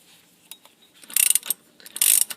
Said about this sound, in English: Dad's made a tool out of a bolt, which actually works very well. We can tighten it up fully